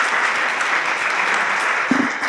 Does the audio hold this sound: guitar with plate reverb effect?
no